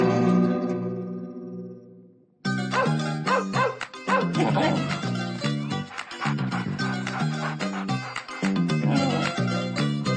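A dog yips and barks in short bursts while being played with, mixed under loud film background music that drops out briefly before returning.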